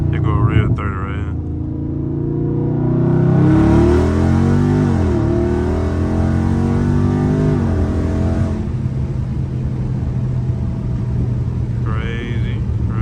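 Dodge Charger Scat Pack engine roaring loud and close during a highway pull, with rising revs and audible downshift pitch drops, voices talking over the rumble.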